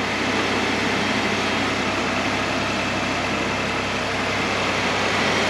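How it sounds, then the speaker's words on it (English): A Ford F150 pickup engine idles in a steady, low, even rumble with no break, fairly loud and close, with no voices over it. "Had to turn the engine on."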